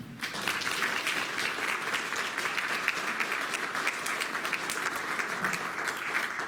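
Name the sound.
audience applause for previous award winners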